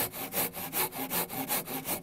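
A handsaw cuts through wood while trimming a beam on a dovetail log cabin: quick, rhythmic rasping strokes, roughly eight back-and-forth passes in two seconds, close and fairly quiet, with no voices.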